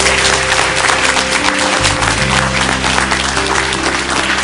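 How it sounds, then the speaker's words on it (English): A banquet crowd celebrating a 70th anniversary breaks into loud, dense applause that holds steady throughout, a continuous roar of many hands with no voices standing out. "Please give yourself a round of applause."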